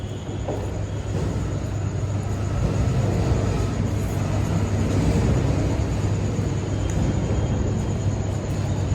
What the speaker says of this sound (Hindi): तो ये हमारे बैक साइड पूरे रेलवे स्टेशन है, अजमेर रेलवे स्टेशन।